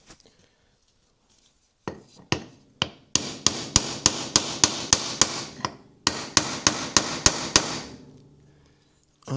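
A hammer strikes hard at close range during a home renovation, starting with a few spaced blows and then settling into two quick, evenly timed runs of sharp ringing hits, with a short pause between the runs.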